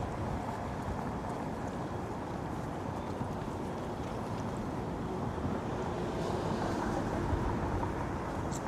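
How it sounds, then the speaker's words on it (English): Cold wind blows along a Toronto street on a winter evening, a steady broadband roar and buffeting against the microphone that holds constant throughout, with no talking. "this wind, man, it's making my face go numb"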